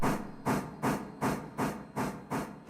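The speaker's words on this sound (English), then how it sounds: "I love that chuff." A steam locomotive in the railroad game Railroader chuffs in a strong, even rhythm, about six loud bursts of exhaust in quick succession, close and alone.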